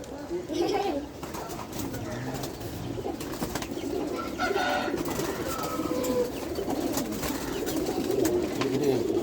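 Pigeons coo inside a cage at close range, low murmuring calls running throughout while people talk over them.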